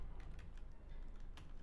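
Keys tapped on a computer keyboard while filling in a text field, a few quiet, sparse clicks close by with no talking.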